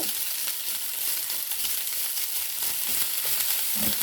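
Rice frying and sizzling in a pan alongside beets, a steady, dense crackle with occasional stirring scrapes and no one talking.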